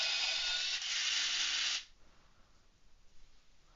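A gray colour pencil whirs in a pencil sharpener for nearly two seconds, a steady loud buzzing grind that cuts off abruptly, followed by quiet room noise.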